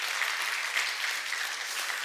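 An audience in a church applauds steadily, a dense even wash of many hands clapping at moderate volume.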